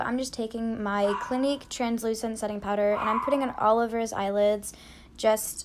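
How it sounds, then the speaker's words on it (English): A pet dog's barks and yips come through at moderate level, mixed under steady close-up speech from a woman applying makeup indoors. "I think you can hear my dog barking."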